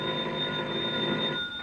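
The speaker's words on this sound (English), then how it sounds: "a bell started ringing somewhere and woke me out of a sound sleep" A telephone bell rings steadily in a radio drama, a continuous bright metallic trill heard alone and fairly clear.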